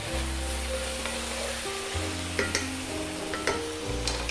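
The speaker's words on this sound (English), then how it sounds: "those onions are cooking down really nicely" Onions frying and cooking down in a pot for a South African bredie stew, a continuous close sizzle and bubbling with a few brief clicks of utensils, over a low background hum.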